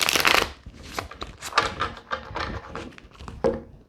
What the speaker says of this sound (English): We're going to get shuffled.